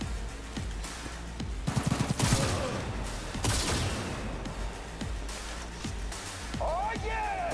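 Gunfire in the Cyberpunk 2077 video game comes in dense bursts and rattling volleys under a continuous game soundscape, with a voice talking over it.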